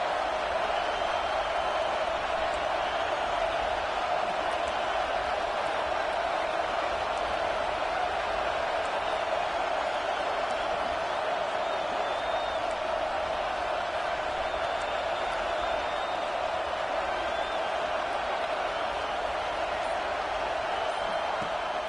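Stadium crowd at a Nebraska versus Tennessee football game roars in a dense, steady wall of cheering that holds loud and unbroken throughout, with no clear voices standing out.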